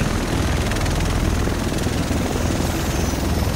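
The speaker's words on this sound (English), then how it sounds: "The rest of us should be in this chopper." Helicopter arriving in The Division video game: a loud, steady rotor thrum with dense engine roar filling the whole clip, close and continuous without letting up.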